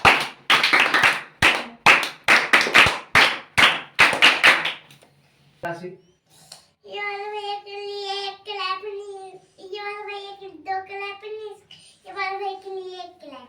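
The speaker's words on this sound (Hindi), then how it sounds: "एक बार और गुड क्लैपिंग की जाए" Group claps for a singer after a Ramayana recitation: a burst of sharp, rhythmic clapping for about five seconds, then a child sings a melodic line alone, close and clear.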